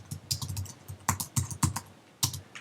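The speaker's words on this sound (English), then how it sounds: "I'm going to type in the word temporary" Typing a word on a computer keyboard, quick clusters of crisp key clicks in an uneven rhythm, close and clear, with a short pause before a final burst.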